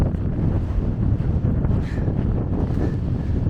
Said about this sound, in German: Und jetzt kommt noch so ein blöder Wind von der Seite.